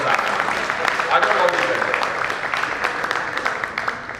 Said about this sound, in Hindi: ताली जरा एक बार मिलके बजाओ